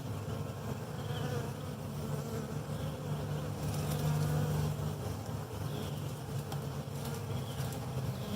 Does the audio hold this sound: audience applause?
no